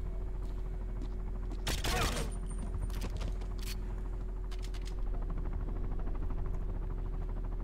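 Gunfire in the video game 007 Quantum of Solace: a loud, short burst of shots, followed by a few sharp isolated cracks and a quick cluster of shots, over a steady low background hum.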